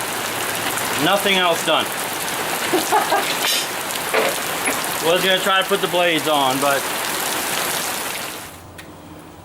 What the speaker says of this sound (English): looks like the rain is starting to stop.